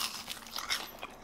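Crisp bites into starch batter mixed with ice water and deep-fried, a quick series of light crunches and crackles, close up with no talking.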